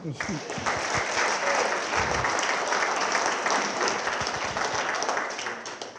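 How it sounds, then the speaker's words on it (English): Banquet crowd applauding at an athletic hall of fame induction dinner, a dense, sustained wash of clapping that rises quickly, holds loud for several seconds, then begins to fade. "Another round of applause for Dave."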